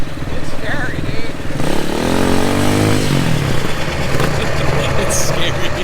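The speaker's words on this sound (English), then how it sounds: "It's a Chinese motorcycle, dude. Sounds kind of cool." A Chinese HAWK 250 dirt bike engine runs close and loud with a steady rough idle, then revs up and falls back in one smooth sweep before settling into its throaty idle again.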